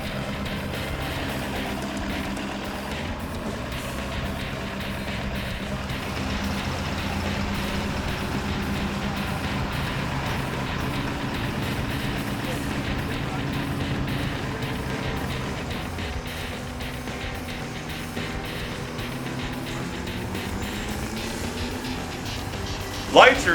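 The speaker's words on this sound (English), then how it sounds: "He starts to burn out lots of smoke, clean diesel, all the way across the starting line." A diesel truck sits on a drag strip starting line with a steady, heavy engine rumble and grind that goes on at length before a sharp burst at the very end, while announcer commentary runs over it.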